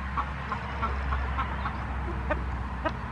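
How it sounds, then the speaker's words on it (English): A small hen clucks in short, evenly spaced calls over a steady low background hum, moderately close and fairly quiet, with no talking. "Look at this chicken. Isn't it so cute?"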